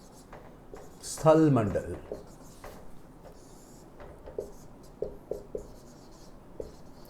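During a Hindi-language geography lecture on the lithosphere, a teacher writes on a board with a brief scratchy stroke, then a run of light, scattered taps and clicks, while someone speaks briefly.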